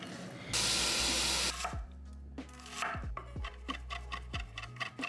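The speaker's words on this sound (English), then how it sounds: "We're about to give this a good wash." Running water from a kitchen tap rinses salad greens, a loud hissing stream that stops abruptly, followed by scattered knocks, clinks and rustles of the wet leaves being handled.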